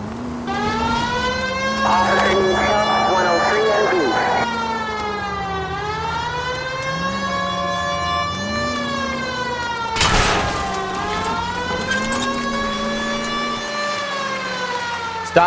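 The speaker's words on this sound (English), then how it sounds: "Why aren't you using the siren?" Police car siren in the video game L.A. Noire wailing steadily with slow rising and falling sweeps over a low car engine hum, loud and sustained throughout, with a brief burst of noise partway through.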